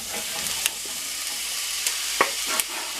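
Sausage sizzles steadily in a frying pan as peppers go in, with a few scattered clicks and light scrapes of stirring over the hiss.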